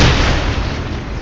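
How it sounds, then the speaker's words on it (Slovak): Car explosion in a video game, a dense continuous boom rumbling for over a second at steady loudness, loud and close with no talk over it. "Ja som vybuchol, alebo čo to bolo?"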